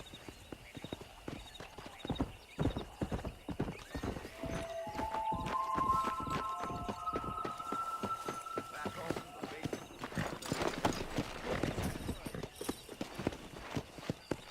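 Horse hooves clip-clop at a steady galloping rhythm in the Western video game Red Dead Redemption, loud and close, with a rider calling out over them and a brief whinny.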